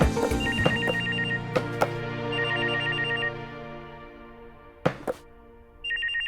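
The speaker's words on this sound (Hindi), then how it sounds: "अकाउंटेंट क्यों फोन कर रहा है इसे?" A telephone rings in a domestic TV drama scene in repeated bursts of electronic trilling with gaps between them. Sharp knocks and thumps sound alongside, with no speech.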